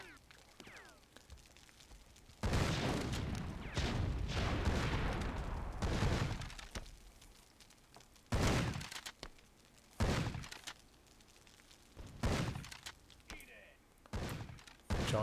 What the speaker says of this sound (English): they're deciding to throw grenades at each other.